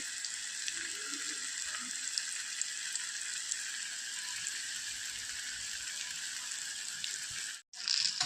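Ripe jackfruit fritters (chakka pazham pori) frying in oil over a medium flame: an even, continuous bubbling sizzle holding steady throughout, with a brief dropout near the end, no speech.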